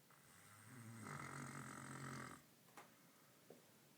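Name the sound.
person snoring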